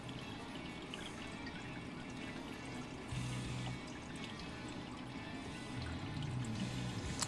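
Water runs steadily through a backyard sluice that has a flap slowing the flow, a soft continuous pouring and trickling wash that swells slightly at moments, moderately close, with no voices.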